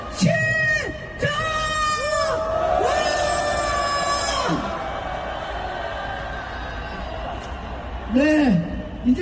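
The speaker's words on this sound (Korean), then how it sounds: "우리의 이 뜨거운 분노를 용산을 향해서 한번 함성으로 외쳐 보시겠습니까?" A large street rally crowd at a Democratic Party protest lets out a loud, sustained unison shout of many voices for several seconds, fading into murmur before a fresh burst of yelling near the end.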